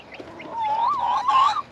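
Chickens in a backyard flock with a rooster and newly introduced baby chicks, a short rising and falling cluck and squawk from one nearby bird, clear and fairly loud.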